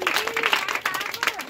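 Audience applause at a magic show: a brief burst of clapping that mixes with voices talking over it.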